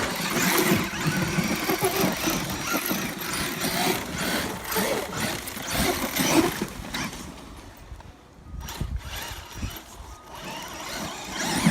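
A Losi LST XXL2-E 1/8-scale electric RC monster truck runs at full throttle on a dirt mound, giving a loud, continuous high-pitched motor whine and gritty tire noise that dips briefly near the end before surging again.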